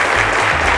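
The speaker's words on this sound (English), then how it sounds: "A round of applause to Professor Charles Abdulwakil." Continuous audience applause at a televised quiz show season finale award ceremony, a dense even wash of clapping throughout the short moment.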